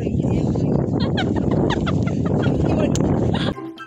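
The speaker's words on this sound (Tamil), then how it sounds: "காட்டுக்கோழி காட்டுக்கோழி காட்டுக்கோழி சாதாரண கோழி தான் போட." Chickens clucking and squawking in a busy, overlapping chorus close by during a jeep safari in Kerala, with people talking over them before the sound cuts off abruptly near the end.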